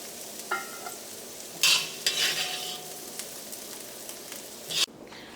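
Carrots sauté briefly in a pan for a pickle, a soft, steady sizzle with a few short bursts of scraping and stirring against the pan, fairly faint and without any talk.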